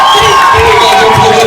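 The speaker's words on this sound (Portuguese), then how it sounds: "Uma salva de palmas em família" Family crowd at a fifteenth-birthday party cheering and shouting loudly and continuously, a dense mix of voices with a constant roar and no clear pauses.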